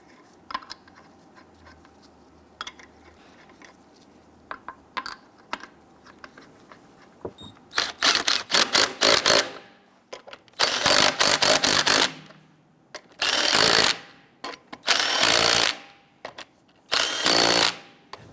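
Lug nuts on a Jeep Grand Cherokee wheel snugged down with a power tool: after quiet handling clicks, five loud close whirring bursts of about a second each, separated by short pauses, with no talk.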